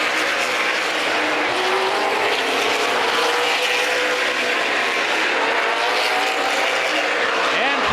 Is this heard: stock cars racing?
yes